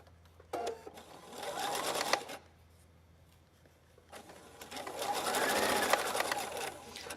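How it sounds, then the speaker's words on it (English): A sewing machine top stitching a folded belt loop for a trench coat, in two steady whirring bursts of about two seconds each separated by a quiet pause, close and fairly loud. "As you fold and then fold over it, you're just going to top stitch this."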